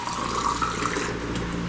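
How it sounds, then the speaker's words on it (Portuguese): Tap water runs steadily into a container for cleaning a microwave, a continuous close hissing splash that fills the whole moment, no voices. "ó, vou colocar água."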